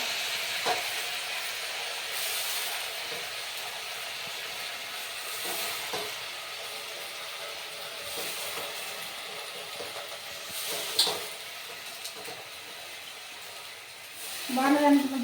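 Brinjals and broad beans frying in a pan for a curry, a steady bright sizzling hiss throughout with occasional louder spatters, a surge of sizzle at the end, a voice talking at times.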